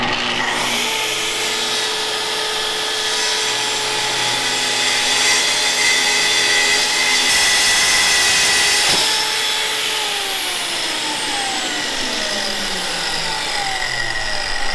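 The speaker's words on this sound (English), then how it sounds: "Start at full speed, then plunge." Festool plunge track saw on a parallel guide ripping wood, a loud steady motor whine with a grinding cut that holds throughout, the pitch shifting as the blade plunges and feeds, close up with no talking.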